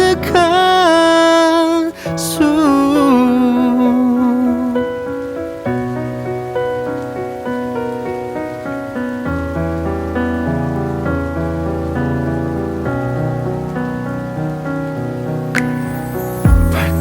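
Steady, soft rain hiss runs beneath gentle melodic music that carries through the whole stretch.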